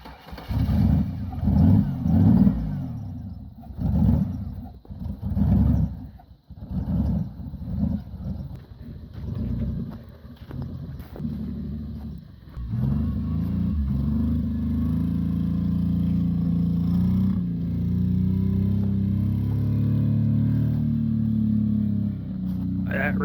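Engine of a vehicle churning through a driveway mud bog at a snow drift event, rough revving bursts and clatter giving way to a sustained loud drone, with voices talking over it.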